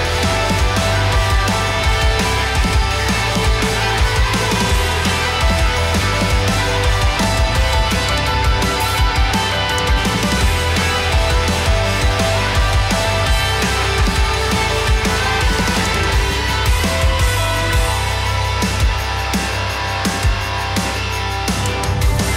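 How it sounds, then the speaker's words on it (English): Riding Balder, the Intermission prefab wooden roller coaster at Liseberg, produces a loud, continuous roar of wheels on wooden track, with rumbling and clattering that shifts as the train moves along. "That's going to be the wooden coaster, the Intermission prefab wooden coaster, Balder."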